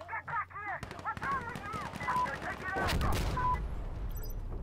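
Burst rifle gunfire in Insurgency Sandstorm on Xbox, loud rapid shots in short clusters that build into heavy continuous firing, with voices talking faintly beneath.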